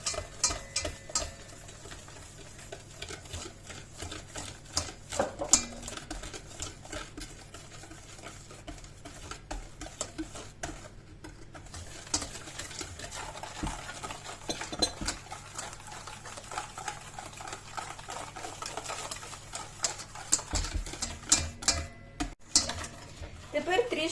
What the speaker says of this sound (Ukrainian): Сюди додаю олію і продовжую збивати.